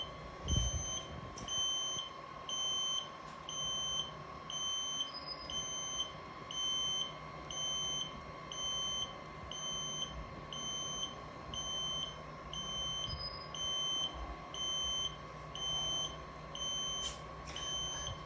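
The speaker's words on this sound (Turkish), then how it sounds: "dedektörden alarm veriyoruz" A CO2 fire-suppression control panel's detector alarm beeps in a steady repeating pattern of high electronic tones over a constant hum, lasting throughout with no talking.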